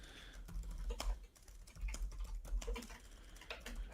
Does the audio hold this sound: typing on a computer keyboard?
yes